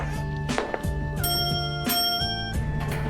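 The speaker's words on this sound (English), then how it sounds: "then the doorbell suddenly rang" Doorbell in a film scene, a series of bright ringing chimes with sustained tones, each strike sounding clearly over a steady background.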